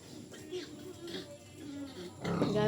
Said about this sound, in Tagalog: May pig. Baby pig.